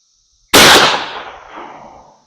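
A .410 shotgun with its choke removed fires a single 160 grain Mr. Hollow Point slug loaded backwards. One sharp, loud blast, close by, with a crack that decays into a rolling echo over about two seconds.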